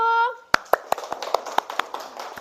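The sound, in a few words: classroom applause for group 1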